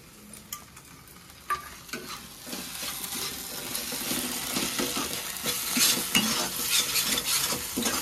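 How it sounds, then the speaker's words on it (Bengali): Slit green chillies and tomato hit a pan of well-fried spice paste for a Bengali bata fish curry, giving a steady sizzle and frying crackle with a utensil stirring and scraping through it. No voices. "এবারে দিয়ে দিচ্ছি চেরা কাঁচা লঙ্কা আর টমেটো"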